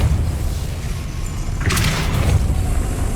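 A Depulso force spell cast in Hogwarts Legacy, a short low boom with a bright whooshing burst partway through, heard alone and fairly loud.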